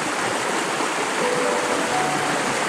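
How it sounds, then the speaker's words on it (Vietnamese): A clear mountain stream fed by a seven-tier waterfall in wild trekking country rushes past close by, a loud, unbroken broadband wash of flowing water with no voices. "Nước suối ở đây thì rất là trong."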